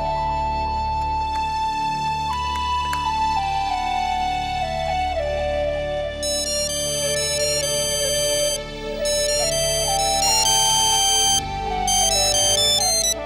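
A mobile phone ringtone plays loudly and steadily throughout, a repeating electronic melody with bright synthesized tones layered over a constant backing, with no voices.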